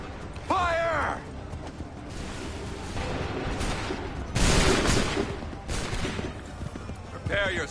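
Volleys of gunfire in the Hunt for Freedom video game ring out as repeated bursts over a constant battle din, with horse hooves clopping and commanding voices calling out throughout.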